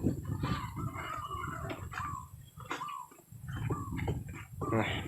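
Chickens on a Thai cattle farm in the evening, clucking and calling in short bursts close by, mixed with wind and voices talking over them.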